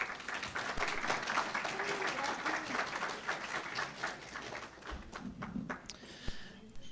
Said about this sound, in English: Let's give a round of applause for Patrick.